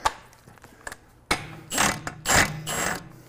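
A ratchet tightens the axle nut on a 2014 Chevy during brake and ABS repair, starting with faint clicks, then loud, close bursts of rapid ratcheting in several strokes.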